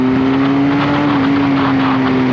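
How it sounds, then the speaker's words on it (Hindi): A Benelli 502C cruiser motorcycle's 500cc inline two-cylinder engine accelerates in second gear, a loud, close, continuous droning hum whose pitch shifts slightly throughout. "500 सीसी इनलाइन 2 सिलेंडर इंजन, ऐसा कमाल कर सकते हैं क्या?"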